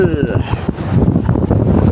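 Strong wind at sea buffets and roars across the microphone, with a rushing, noisy texture and a brief whistling tone at the start.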